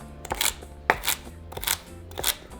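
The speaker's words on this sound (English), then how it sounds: "flip them over and begin chopping them into small little cubes" Knife chopping celery sticks into small cubes on a cutting board, four quick clusters of crisp taps in a steady rhythm, close and clear with no talking.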